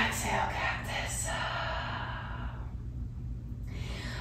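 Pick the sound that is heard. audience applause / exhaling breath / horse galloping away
exhaling breath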